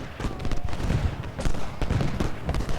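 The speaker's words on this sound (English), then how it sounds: "Let's go ahead and switch to Shell Shot, and we're going to turn over here and fire on Cutler with Green." Artillery firing shell shot on a Gettysburg Civil War battlefield in Ultimate General Gettysburg, a dense continuous roll of booming cannon and crackling musketry, loud and layered with near and distant blasts.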